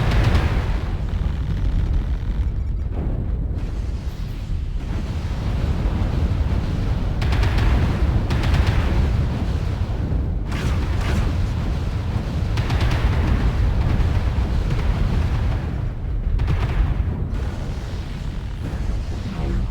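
Missile explosions in the mech combat game Mechwarrior Online, loud continuous rumbling booms with repeated blasts layered over one another, heavy and close throughout.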